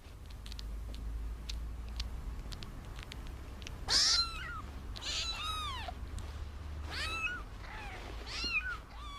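Young domestic kittens nursing on their mother let out a series of thin, high, rising meows, several in a cluster and then a few more, fairly close over a low steady hum.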